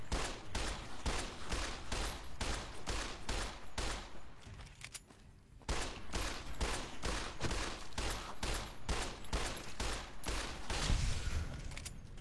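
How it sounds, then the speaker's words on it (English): Rapid gunfire from a 10 millimeter pistol in the Fallout video game rings out in a steady run of sharp, evenly spaced shots. After a brief pause near the middle, the shots resume at the same pace, fairly quiet and with no talking. "Let's get our 10 millimeter pistol out because we have more ammo."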